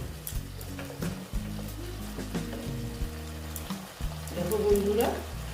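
Okra fries slowly in a pan and is stirred, a close crackling sizzle broken by clattering spoon strokes against the pan, with a low hum beneath and a brief voice in the background.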